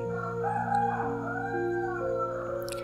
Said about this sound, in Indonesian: iklan dulu ada ayam berkokok